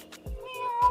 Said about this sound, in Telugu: చూడండి ఇదైతే మాట్లాడుతుంది పిల్లి